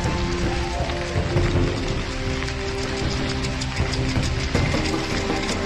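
Steady rain pattering down during an outdoor 1500 m track race, a dense continuous hiss of drops on surfaces, loud and even with no voices.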